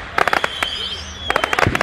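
Neighbourhood fireworks for the American Fourth of July go off at some distance in quick crackling volleys of sharp pops, with a gap of quiet between bursts and a thin whistle trailing through.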